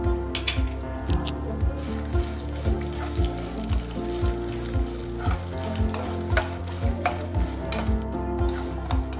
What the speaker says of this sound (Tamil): ஆறுலேருந்து ஏழு காஞ்ச மிளகாய் வந்து சேர்த்து நல்லா வறுத்துக்கலாம்.